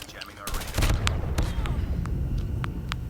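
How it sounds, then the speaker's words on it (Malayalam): Flashbang and gunfire in the mobile shooter Call of Duty Mobile, a loud burst followed by a rapid string of sharp shots over a busy, noisy game background. "ആരോ ഫ്ലാഷ് ബാങ് എറിഞ്ഞു, കണ്ണ് കാണാണ്ടായി പോയി"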